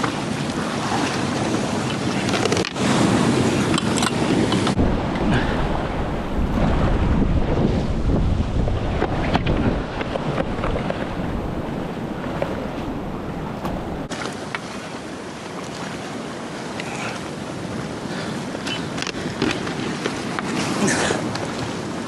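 Ocean swell breaking over rocks, heard from a fishing kayak at sea. Waves surge and crash continuously with heavy wind buffeting the microphone and no talking.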